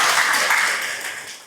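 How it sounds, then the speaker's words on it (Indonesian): An audience breaks into a short burst of applause, a dense even patter of clapping that fades toward the end. "Ya, tepuk tangan dulu."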